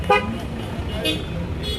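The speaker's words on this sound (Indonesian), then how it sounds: "Sambil dibunyikan klaksonnya sambil jalan." A car horn toots briefly in a moving car procession marking a church anniversary in Toraja, rising over steady traffic rumble while someone talks nearby.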